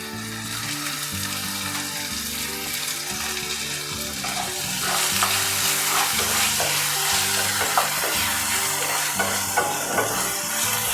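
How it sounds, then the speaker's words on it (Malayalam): Finely chopped ginger and tomato sizzle steadily in a hot frying pan for bread upma, a continuous loud frying crackle that swells and intensifies halfway through, with occasional stirring clinks and no talk. "ഞാൻ ഇഞ്ചി ചെറുതായി അരിഞ്ഞിട്ടുണ്ട്, അതിടുന്നുണ്ട്. പിന്നെ തക്കാളി ഇടുന്നുണ്ട്."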